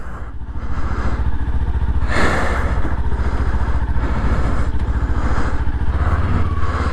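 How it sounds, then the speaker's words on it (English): A Kawasaki Ninja 400 during emergency braking practice on the road, its engine humming steadily and close with rough wind noise throughout. "I'm practicing some braking."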